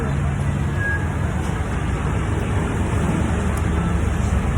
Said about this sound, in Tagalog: Narinig ko guys yung mga sasakyan guys.